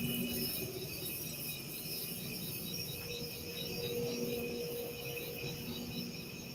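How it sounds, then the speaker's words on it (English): Crickets chirp outdoors at night, a faint, steady high-pitched trilling that pulses evenly throughout against a quiet background, with no talking. "that's the crickets outside here."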